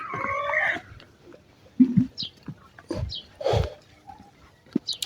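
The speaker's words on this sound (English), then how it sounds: "I love the sound of the birds, like the way they are sounding right now." Morning outdoor ambience by a main road in Maparo, Zambia, with scattered bird calls, including chicken clucks and a crowing rooster, plus brief chirps coming and going at moderate distance over a quiet background.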